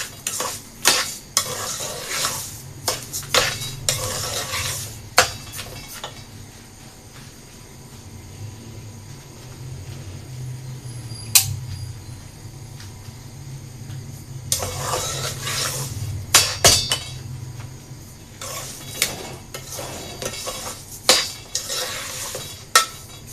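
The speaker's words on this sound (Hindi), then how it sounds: "सूजी में अच्छी तरह चीनी को हमने मिक्स करना है" Sugar stirred into semolina in a pan: repeated bursts of metal spoon scraping and clinking against the pan, separated by quieter stretches of low frying, close and clear without speech.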